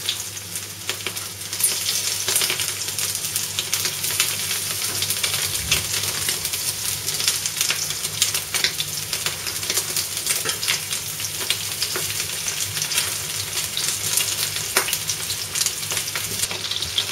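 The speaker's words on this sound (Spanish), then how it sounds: "Cuando tengamos el aceite caliente, iremos poniendo el pollo a freír hasta que se dore." Chicken pieces fry in hot oil for pollo escabechado, giving a continuous crackling sizzle with scattered sharp pops at moderate volume and no voices.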